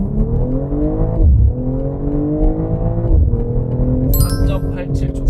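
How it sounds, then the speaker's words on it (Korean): A BMW 4 Series with a 48V mild hybrid system accelerates hard from a launch, its engine note climbing through the gears in loud rising sweeps with brief dips at the shifts, heard from inside over a voice. "런치 컨트롤 하듯이 가속 페달 밟고 한번 해볼게요"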